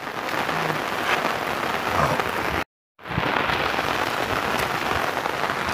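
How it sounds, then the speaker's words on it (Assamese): Heavy rain pours down during a long spell of wet weather, a dense, steady hiss of drops hitting surfaces, broken once by a brief dropout of near silence before the downpour resumes at the same loud level. "বৰষুণ চাওক না গাইজ কেনেকুৱা বৰষুণ"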